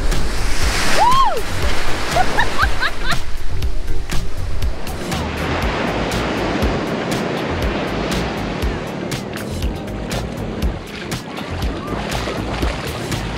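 Cold Gulf of Mexico surf breaks steadily on the beach at Gulf Shores, a continuous close rushing wash with a brief voice early on.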